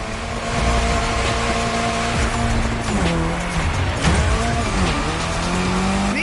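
A Drift Queen Lancer Evo 6 drifting at an airport in a racing video game, its engine droning loudly and steadily with revs rising and falling and tire squeal bending through the slides, with no speech.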